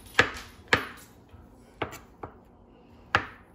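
A knife chops avocado into cubes on a cutting board for guacamole, five or six crisp, separate knocks at an uneven pace, close by and with quiet gaps between them.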